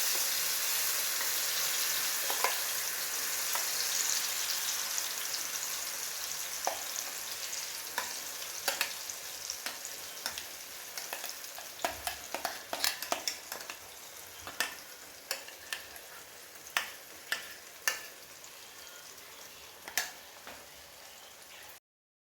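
Blended carrot mixture fries in a pan with a soft, continuous sizzle while a spoon stirs it, making irregular sharp taps and scrapes that grow more frequent later on, close and without voices.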